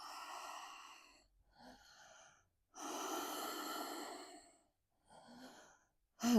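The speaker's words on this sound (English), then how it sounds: "keep on breathing, Ujjayi" Slow, audible breaths drawn in and pushed out through a constricted throat during a yoga session, several long airy strokes separated by short pauses, close and clear with no talking.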